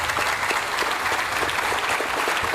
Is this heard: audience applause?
yes